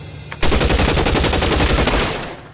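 Men open fire with guns in L.A. Noire, a loud, close burst of rapid automatic gunfire that rattles on steadily for about two seconds before tapering off.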